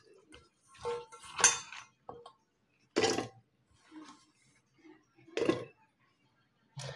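Flat beans are dropped into a pressure cooker holding washed rice. Several separate clinks and clattering bursts come close by, with quiet gaps between them.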